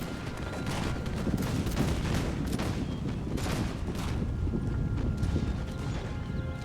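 Musket volleys in an American Revolution battle game: a dense, continuous crackle of many shots with louder bursts scattered throughout, rolling over a busy low battlefield rumble.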